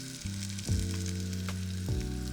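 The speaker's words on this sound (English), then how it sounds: "And now, more of the toasted cumin seeds" Toasted cumin seeds drop into a hot pan and crackle in a steady, close sizzle, with a brief stirring scrape partway through and no voices.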